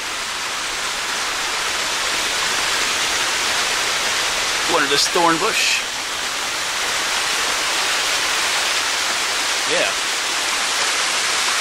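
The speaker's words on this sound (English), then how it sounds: "there's a beautiful little waterfall right here along the trail" A small waterfall beside a trail at South Fork, near Johnstown, fills the air with a steady, loud broadband rush, while a few brief spoken words pass over it.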